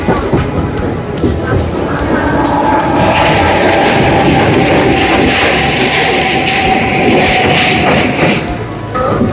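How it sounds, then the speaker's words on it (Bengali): Santragachi to Digha local train running through paddy fields, a loud continuous rumble with rhythmic clattering of wheels on rail joints, heard close from on board. "ট্রেন ছুটে চলেছে তার গন্তব্যের দিকে"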